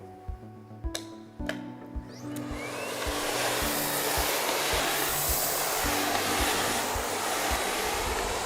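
A Miele Complete C3 vacuum cleaner on a hard floor starts after a few clicks and knocks and then runs with a loud, steady, close roar and a faint regular ticking underneath.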